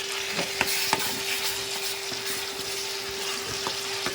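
Onion and tomato puree sizzles steadily in a hot pan for a prawn and okra dish, with a few faint stirring clicks and no talking.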